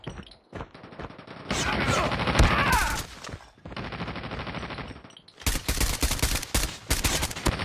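Call of Duty gunfire: loud, sustained automatic bursts broken by brief pauses, with dense rapid shots filling the foreground and in-game voices calling out between volleys.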